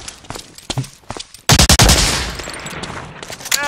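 Gunfire in Medal of Honor: Allied Assault, scattered single shots leading into a loud, close volley of rapid rifle and machine-gun fire that rings out and decays.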